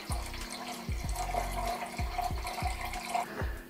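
Water pours from a tap or jug for a homemade lemon, honey and ginger cold-remedy drink, with a steady trickle broken by repeated low gurgles and drips, close and fairly quiet.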